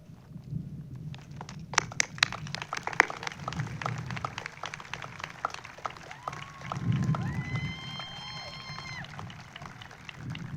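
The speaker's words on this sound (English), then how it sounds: "so we could give them a round of applause." Graduation audience clapping and cheering for past and present teachers, scattered sharp claps over a crowd murmur, with whoops and a rising cheer later on, fairly distant.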